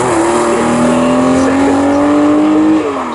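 Race car in a CSCC Future Classics race at Snetterton circuit, engine note loud and close, climbing steadily in pitch as it accelerates past, then dropping away at the end.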